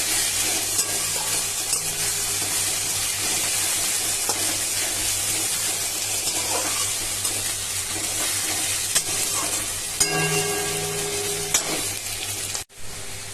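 Spices being sautéed in a hot frying pan while preparing tangra fish, with a loud, steady sizzle and frying hiss throughout and occasional stirring scrapes close by.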